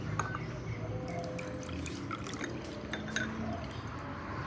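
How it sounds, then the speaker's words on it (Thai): Ice-cold water poured onto gelatin in a kitchen, a trickling, splashing pour with small drips and faint glassy clinks over steady background noise, close and moderate in volume. "เจลาติน6กรัมน้ำเย็นจัด30กรัมใส่รวมกันครับ"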